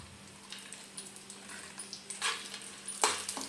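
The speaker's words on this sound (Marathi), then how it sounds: "चांगलं आपण थोडंसं एकदम थोडंसं फ्राय करून घ्यायचं आहे" Almonds, cashews and raisins fry in ghee in a pan, giving a quiet, steady low sizzle broken by a few sharp scraping stirs of a spoon against the metal.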